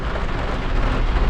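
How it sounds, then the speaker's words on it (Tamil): Steady rain pouring down in Ooty, a dense, loud continuous hiss with a heavy low rumble underneath, unbroken for the whole moment and free of talk. "இப்போ இன்னும் மழை பெஞ்சிக்கிட்டே இருக்குது"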